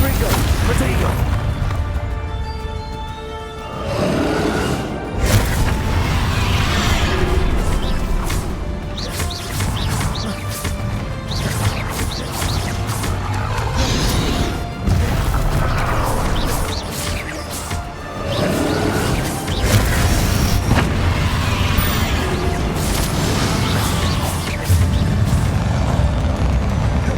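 Spell blasts and crashes burst repeatedly through a Hogwarts Legacy combat fight, with booming impacts and swooshes rising and falling under nearly constant talking.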